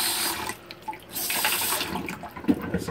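Tap water running steadily inside a camper, a close, continuous splashing flow into a sink with small dips and bursts, no voices.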